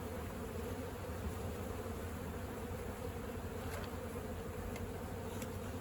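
Honeybees being merged from separate small colonies drone in a steady dense buzz around the hives, continuous and even throughout, with a few brief faint ticks and no voices.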